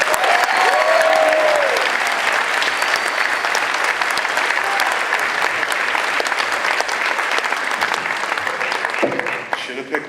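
A Comic-Con panel audience applauds for the full stretch, a dense steady wash of clapping that thins slightly toward the end, with scattered cheers and voices mixed in.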